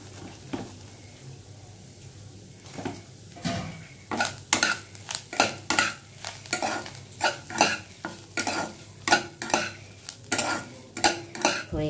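A spoon stirs turmeric and chili powder through oil in a pan over a low flame, with repeated sharp scraping strokes, metallic clinks and a soft sizzle underneath, close and steady.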